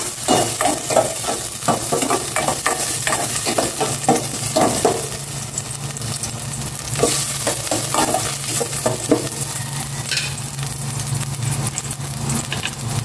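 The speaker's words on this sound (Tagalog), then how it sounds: "Igisa ko na itong luya muna." Ginger sautéing in hot cooking oil in a home kitchen for milkfish sinigang, a steady loud sizzle with repeated scraping stirs throughout, a low engine-like hum underneath and no talk.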